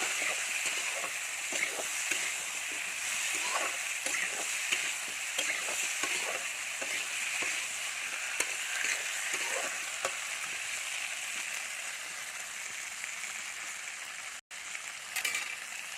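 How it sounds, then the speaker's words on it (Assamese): Pieces of elephant apple (outenga) frying in a pan give a steady, even sizzle, broken by light scraping stir strokes, with no talk. "এই ঔটেঙাডোখৰ দি দিলোঁ ভালকৈ লৰাই অলপ সিজিবলৈ দিম"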